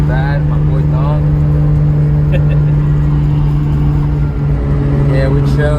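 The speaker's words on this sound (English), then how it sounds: "We're driving the Supra. It's taking us forever because it's really bad." A Toyota Supra in poor running condition drives steadily, with a loud constant low engine drone and tonal hum from inside the cabin and a faint voice underneath.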